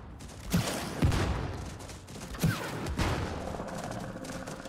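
Rapid gunfire bursts in the video game It Takes Two as players shoot at attacking wasps, several loud volleys separated by short pauses over a steady background of game noise.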